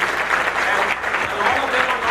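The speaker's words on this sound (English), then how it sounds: "So just a round of applause for everybody." A large conference audience at TiEcon applauds the event team, a loud, dense and continuous clatter of many hands that stays steady for a couple of seconds without talk.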